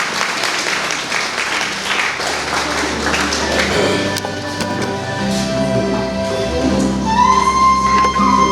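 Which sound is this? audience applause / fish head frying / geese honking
audience applause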